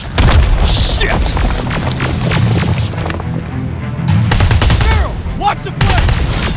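Sustained gunfire in the Terminator: Resistance video game, a dense loud fusillade of rapid shots and booms continuing throughout, with shouted voices mixed in.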